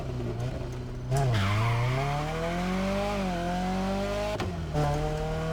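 Stock Nissan S14 skidding in The Crew Motorfest, engine droning under a long tire squeal that bends in pitch as the car slides, with two brief sharp breaks mid-slide.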